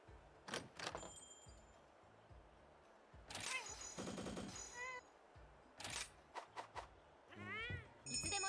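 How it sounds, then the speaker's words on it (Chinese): Cat meows heard faintly during gameplay of Scoober Splat, several short rising calls spaced among game sounds and chatter. "喵喵叫，真的是哦， 那是猫吗？"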